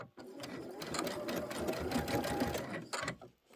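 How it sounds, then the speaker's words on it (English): A home sewing machine runs steadily for a few seconds, stitching a couple of stitches across fabric pieces while preparing a quilted pillow, its motor whir and needle chatter close and continuous before stopping. "I'm going to sew a couple stitches over, get my next pair."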